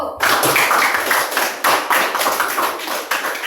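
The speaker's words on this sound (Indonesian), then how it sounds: "kita berikan aplaus dulu untuk kelompok 1" Classroom audience applauding group 1 after their presentation, a dense, steady burst of many hands clapping close by that starts sharply and carries on for a few seconds.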